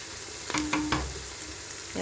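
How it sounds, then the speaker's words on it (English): Onions cooking in a pot for pilau beef give a low steady sizzle, broken by a few quick stirring scrapes near the middle, with no talking. "So when we are still cooking our onions, we'll wait until they are done."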